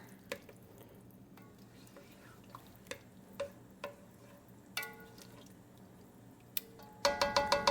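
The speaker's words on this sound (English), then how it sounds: "I'll give that a stir." A spoon scrapes and clinks through tomato-based Chicken Riggies sauce in a pot, giving quiet, irregular stirring taps and wet squishes, followed by a brief louder run of clinks at the end.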